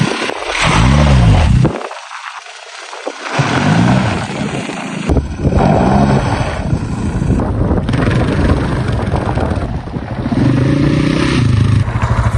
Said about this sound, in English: This will make the rear wheel break traction and the wheel will spin on the ground.